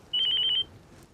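A telephone rings once indoors, a quick bright trill of rapid repeated pulses lasting about half a second, clear and fairly close in an otherwise quiet room.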